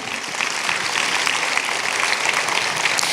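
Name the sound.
congregation applause to the Lord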